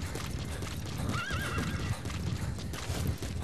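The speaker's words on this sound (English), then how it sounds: "Let me call my horse." A horse whinnies in the Metal Gear Solid 5: The Phantom Pain video game, a clear rising and falling neigh over steady clip-clop hoofbeats, with a rumbling in-game outdoor background throughout.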